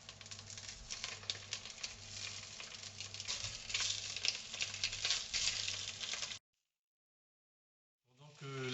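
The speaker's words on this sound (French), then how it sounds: "je mets un petit peu d'huile dans mon faitout qui est chaud et je rajoute les saucisses" Sausages dropped into hot oil in a preheated cooking pot sizzle and crackle steadily at close range, the frying noise running loud for several seconds before cutting out, then a faint voice begins.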